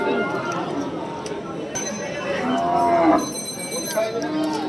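Cattle and buffalo at a village livestock market (Saksar haat) low and moo repeatedly amid a busy crowd, with people talking nearby throughout.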